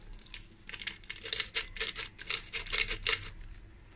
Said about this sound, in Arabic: وكمان هحط فيها كيس الفانيليا